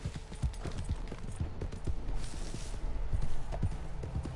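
A horse's hooves clip-clop in a steady, rhythmic trot while riding in Red Dead Redemption Online, each hoofbeat close and clear over a constant outdoor ambience.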